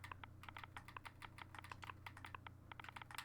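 Quick, close typing on a computer keyboard, a rapid uneven run of light key clicks that continues without pause over a low steady hum.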